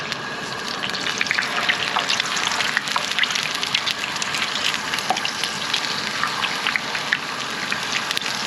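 A pot of water at a rolling boil on a camp stove, with a steady, loud bubbling hiss and crackle that carries on unbroken and without speech.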